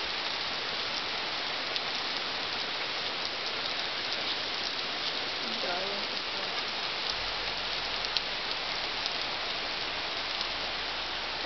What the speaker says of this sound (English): Why do you have to make it rain?